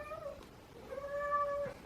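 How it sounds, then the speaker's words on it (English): A house cat gives two meows close by, a short one followed by a longer, rising and drawn-out call, against a quiet indoor background. "Ignore my cat."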